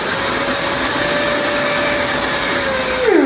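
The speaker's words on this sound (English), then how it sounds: "So this is a pneumatic ran machine set up right now." Tri Tool 536 pipe fitting machine for naval shipbuilding, running on 90 PSI compressed air, gives a loud, steady pneumatic hiss and motor whine close by, with the pitch dropping off at the very end.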